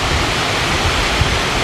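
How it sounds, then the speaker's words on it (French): Mountain waterfall in the Pyrenees pouring steadily, a loud, dense, continuous roar of rushing water close by, with no voices. "la giga cascade de ce matin. Là, ça coule."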